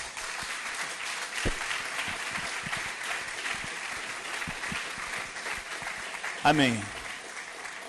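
A church congregation breaks into applause, a continuous patter of many hands under a preacher's voice. A brief spoken interjection comes near the end.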